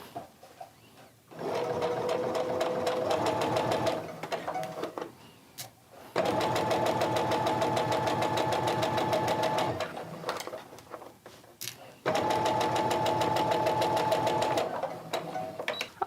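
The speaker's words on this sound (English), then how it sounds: "I'm going to go ahead and start sewing" A sewing machine stitches quilt binding in three long steady runs of rapid, close mechanical whirring, separated by short pauses.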